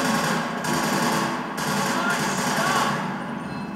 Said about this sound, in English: And this is the Hellgasmine Assault Rifle, as you can see.